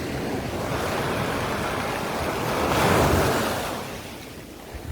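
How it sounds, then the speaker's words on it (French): Ocean waves rolling onto the shore, a broad continuous wash that swells to a louder surge midway and then recedes, with some wind across the microphone. "Les vagues qui arrivent."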